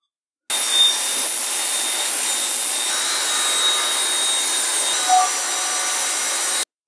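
A power saw whines steadily as it cuts through wooden boards, a continuous close-up buzz lasting several seconds, with a brief stop at the start.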